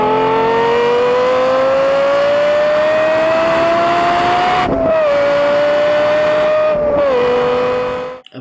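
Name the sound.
Lexus LFA car engine revving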